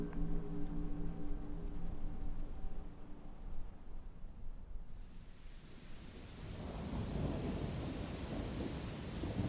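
A thunderstorm rumbles with a deep roll of thunder, then steady heavy rain swells into a dense, close hiss that continues to the end.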